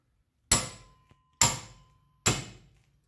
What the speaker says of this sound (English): Just hit the hammer, it should turn.